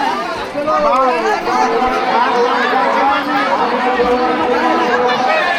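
Thick crowd hubbub at a village fair feast, many voices talking over one another at close range, loud and unbroken throughout.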